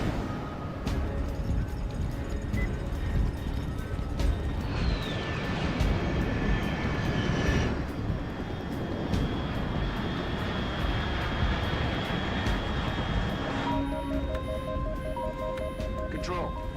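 In Metal Gear Solid 3, an aircraft engine roars overhead in a continuous broad rush, with a short sweeping whine partway through and electronic beeps near the end.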